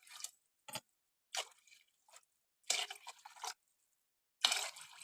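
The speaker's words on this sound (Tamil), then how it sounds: "4 கப் அளவுக்கு தண்ணி ஊற்றிட்டோம்." Water is poured from a cup into sautéed rice and lentils for nombu kanji in four separate splashy bursts, close and fairly quiet, with brief silences between the pours.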